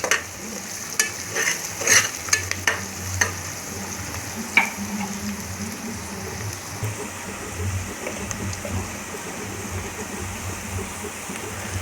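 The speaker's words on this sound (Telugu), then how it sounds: "కొద్దిగా అల్లం వెల్లుల్లి పేస్ట్ను వేసుకొని బాగా ఎర్రగా కాల్చుకోవాలి." Ginger garlic paste with curry leaves fries for a mutton curry, a continuous close sizzle with sharp crackles and occasional spoon clinks throughout.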